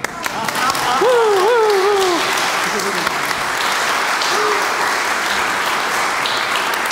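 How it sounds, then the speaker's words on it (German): Audience applause at a vocal masterclass, dense steady clapping filling the whole stretch, with a voice briefly sounding over it near the start. "Applaus."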